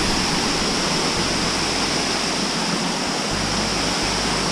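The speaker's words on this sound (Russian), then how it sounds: "Такой водопадик." A small waterfall along the Appalachian Trail gives a steady, dense rush of falling water, close and loud, unbroken for the whole stretch.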